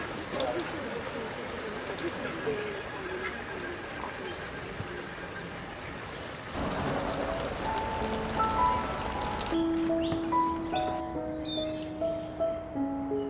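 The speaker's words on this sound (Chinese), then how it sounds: "还在下雨，但是太阳已经出来了。" Rain falls outdoors along a coastline or riverbank while the sun is out, making a steady soft patter on surfaces throughout, with a voice talking over it and a brief tonal sound near the end.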